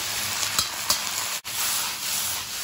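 Rice stirred into a hot pan with browned local shallots, a continuous sizzle with a few soft scrapes of the spatula and a brief dropout midway, close up and with no voices.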